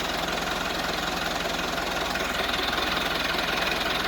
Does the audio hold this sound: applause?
no